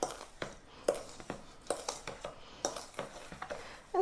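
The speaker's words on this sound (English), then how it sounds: "I'm going to pour in my 3 tablespoons of freshly squeezed lemon juice into my sugar and just stir that up" A spoon stirs lemon juice into sugar in a bowl, producing quiet, rhythmic scraping and light clinks against the bowl at close range, with no talk.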